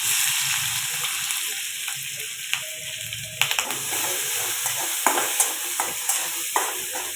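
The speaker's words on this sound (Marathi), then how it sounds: "मिरची आणि लसूण छान असं तेलामध्ये आता मी फ्राय करून घेते." Chopped green chillies and garlic fry in hot oil while being stirred, a steady soft sizzle under scattered scraping clicks of a spatula against the pan, with no talk.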